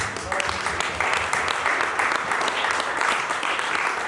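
Congregation applauding during a church seminar service: steady, loud, dense clapping and cheering that fills the whole stretch, close and continuous, with voices mixed in the crowd.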